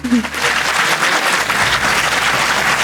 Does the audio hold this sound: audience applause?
yes